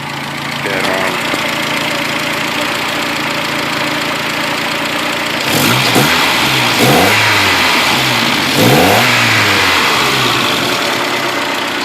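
Turbocharged 22RET engine in a 1986 Toyota SR5 pickup idling, then revving up twice, loud and close, with a ticking loud lifter, while a voice talks faintly underneath.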